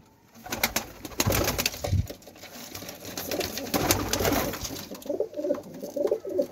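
Pigeons cooing continuously, soft throaty calls overlapping close by, with some rustling and scattered clicks in the background.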